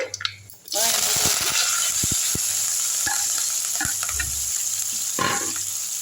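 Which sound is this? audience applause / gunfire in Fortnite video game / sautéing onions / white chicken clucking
sautéing onions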